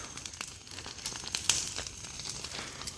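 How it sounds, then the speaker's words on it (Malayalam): Soft, sparse crackling and snapping from a fire lit in the evening in a village at temple festival time, faint and irregular with scattered sharp pops and no talking. "തീ കത്തിച്ചിട്ടുണ്ട്"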